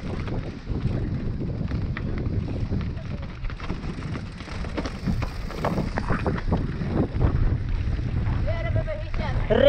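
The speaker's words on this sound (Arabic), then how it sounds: "الريح الريح" Strong wind gusting across a microphone during a downhill mountain bike freeride run in a city bike park, a constant loud rumbling roar that swells and buffets throughout, with voices shouting over it.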